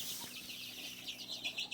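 Flock of 16-day-old Sonali chicks, a local non-hybrid chicken breed, chirp and peep continuously. Overlapping, high-pitched calls sound faint and slightly distant.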